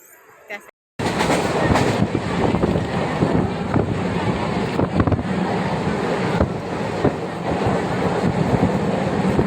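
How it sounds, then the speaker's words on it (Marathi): A train bound for CST pulls into a crowded station with a loud continuous rumble and roar of wheels and wind, close by, after a brief moment of quieter sound. "सी एस टीला जाणारी ट्रेन आहे"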